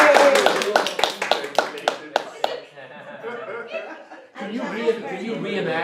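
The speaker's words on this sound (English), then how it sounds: "should we give them applause?" A small group claps for about two and a half seconds of quick, sharp, close hand strikes mixed with chuckles and laughter, then the clapping fades and people talk.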